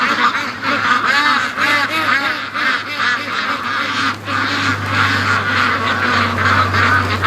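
Ducks and Muscovy ducks in a free-range pen honk and quack almost continuously, a dense, loud flock chorus with overlapping calls close by and a steady low hum underneath.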